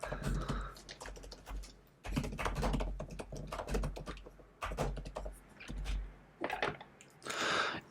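Quiet, close typing on a computer keyboard in an ASMR setting, bursts of rapid soft key taps separated by short pauses.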